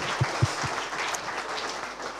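Audience applause for a speaker at an anniversary conference on the Méditerranée IGP, a soft, even patter of clapping hands in a room, heard at moderate distance with a few louder thumps near the start.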